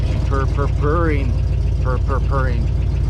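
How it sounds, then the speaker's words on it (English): A 1967 Oldsmobile Toronado V8 idles with a steady low rumble while someone speaks over it; the engine has a slight exhaust leak and needs a lifter adjustment. "Oh, just listen to her purring."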